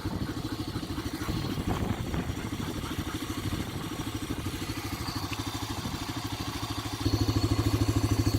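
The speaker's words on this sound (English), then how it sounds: "I think I'm just gonna drive through the desert." A vehicle drives across open desert, its engine chugging steadily and closely with a rhythmic rumble and some clatter, growing slightly louder near the end.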